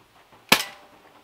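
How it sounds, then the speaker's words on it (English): A BB pistol fired from the hip gives one sharp, close snap that decays quickly in a quiet setting. "Call this one the long range hipfire pistol."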